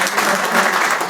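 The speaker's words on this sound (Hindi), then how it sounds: "मैं चाहता हूँ कि तालियां बजाकर इनका वेलकम किया जाए" Audience applause welcoming guests at a political workers' gathering, steady dense clapping throughout, close and loud with a murmur of voices beneath.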